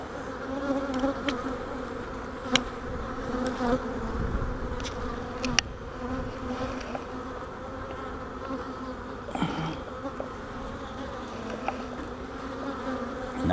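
Honey bees buzz around hives during a spring inspection, a steady close drone of many insects with occasional faint knocks and taps.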